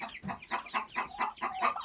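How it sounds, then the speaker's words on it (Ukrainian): Young chicks and pheasant chicks raised by a brooding hen cluck and peep in a close, rhythmic run of short calls, with no talk over them. "Ці курчатка ростуть, дичатка."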